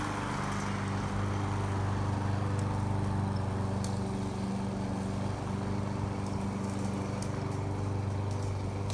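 An orange lawnmower runs somewhere in a neighborhood, a steady droning engine hum held at an even level throughout with no voices.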